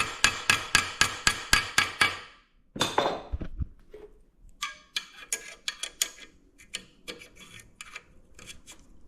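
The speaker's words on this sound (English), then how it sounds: "you can then hammer this round. I can do it by hand because it's so thin" Hammering thin metal by hand around a hinge pin to curl a loop for a pre-war Riley Brooklands bonnet hinge: a fast, even run of sharp metallic taps, a pause, then lighter, irregular strikes.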